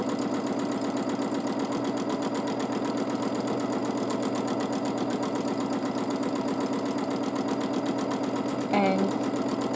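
A sewing machine running continuously during free-motion quilting, its needle beating in a fast, even mechanical rhythm for nearly ten seconds, moderately close, with a brief soft thump near the end.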